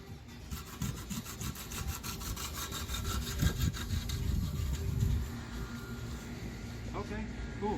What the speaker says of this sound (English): wet sanding this lovely Nissan twin cam 24 valve